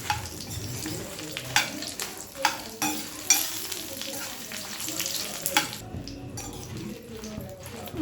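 Dried red chillies frying in oil on a medium flame for gongura pachadi, a steady sizzle broken by sharp stirring scrapes and clinks of a spoon against the pan.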